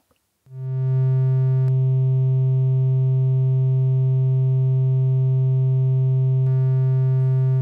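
A steady, loud test tone, summed from two identical tracks with a 0.3 ms delay on one, holds unbroken for about seven seconds after a short silence, with two faint clicks along the way.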